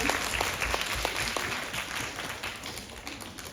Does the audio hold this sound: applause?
yes